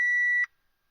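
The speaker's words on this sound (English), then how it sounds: "We get the usual beep." Single electronic beep from a Vpecker E1 WiFi car diagnostic tool, a clean high tone lasting under half a second, then silence.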